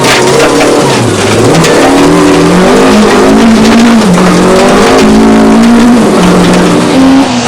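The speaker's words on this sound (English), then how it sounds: "The onboard footage clearly shows that Hubig is nursing the Sasol VW Golf to the finish." A Sasol VW Golf rally car is driven hard along a stage, its engine loud and close with rising and falling revs through gear changes, tyres occasionally scrabbling on the surface.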